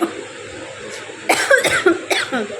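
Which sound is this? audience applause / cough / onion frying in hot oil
cough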